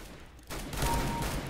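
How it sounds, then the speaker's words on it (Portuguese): A burst of close, loud CS:GO revolver gunfire erupts after a short quiet moment, with sharp shots ringing over a booming, echoing game soundscape. "Revolvão é gostoso de jogar esse bagulho aqui"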